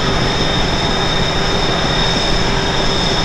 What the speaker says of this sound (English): There goes a GP 40, another older train.